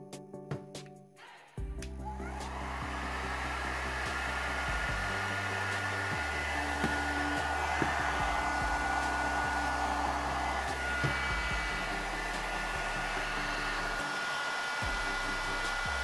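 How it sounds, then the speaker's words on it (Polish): A 1000 W hair dryer powered from a power bank runs steadily and loudly with a constant whirring roar after a brief start-up, alone without speech. "też suszarka do włosów, ale o mocy aż 1000 W."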